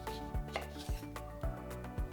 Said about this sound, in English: Grab a lemon and halve it.